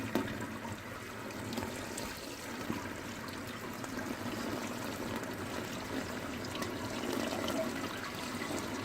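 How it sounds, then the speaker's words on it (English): Hot water from a kettle pours steadily into a home-brew mash tun during a first brew day, a continuous close splashing trickle holding even for several seconds with no talk. "First kettle of water in."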